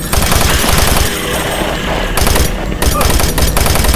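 Gunfire rattles in Doom 3: loud, dense automatic bursts blaze almost without pause, with brief gaps between volleys, close and dominating the whole stretch.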